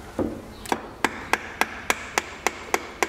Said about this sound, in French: quand il y va à coup de marteau déjà là